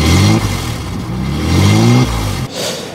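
Nissan 300ZX engine revving hard with an exhaust leak, two loud throaty rev bursts that rise and fall back, rough and raspy close to the car.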